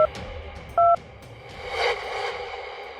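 Phone keypad tones dialing a call to the police station, a few short beeps spaced out and a brief rustle, faint background otherwise.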